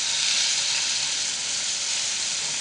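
Sardine balls fry in a pan with a steady, dense hiss of sizzling oil that stays loud and even throughout, with no voices.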